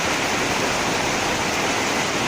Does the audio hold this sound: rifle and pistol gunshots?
no